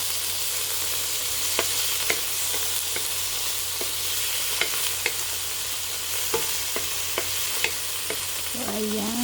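Chopped tomato stirred into sizzling sautéed onions for squid, a continuous frying hiss with repeated sharp spoon clinks against the pan, close and steady, no talking.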